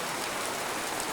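Steady broadband rain hiss used as a storm effect in a Korean audio drama adapting a 19th-century story, a constant wash with no distinct drops standing out and no talking.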